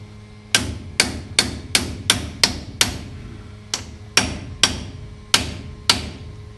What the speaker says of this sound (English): I am chiseling in here. I'm using a wood chisel though.